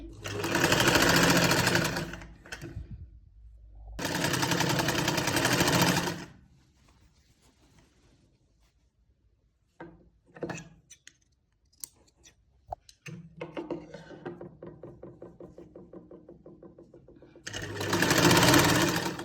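Sewing machine stitching a shirt sleeve, running in loud bursts with pauses between, plus faint clicks and handling of fabric in the quieter stretches.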